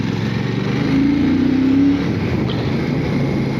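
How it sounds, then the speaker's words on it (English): Royal Enfield 650 twin motorcycle engine, a steady low throaty rumble that swells louder for about a second mid-clip before settling back to a constant idle-like drone, heard up close with no talk. "got a beautiful roar to these 650 engines"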